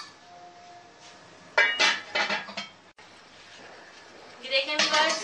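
Metal lid clanks and clinks onto a cooking pot of pumpkin sabzi in a home kitchen, two clusters of close, sharp knocks with a quiet gap between.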